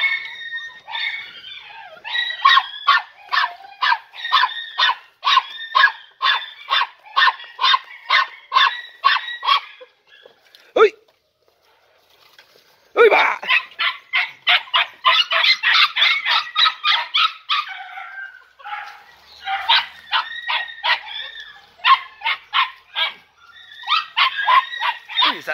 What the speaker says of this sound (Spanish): Escucha la cachorra.